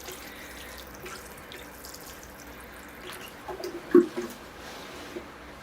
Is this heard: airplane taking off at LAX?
no